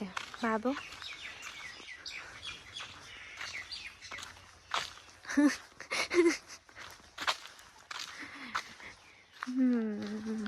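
Birds chirp and call in misty hills on the way to Upper Shillong, short scattered tweets rising between stretches of a person talking close by.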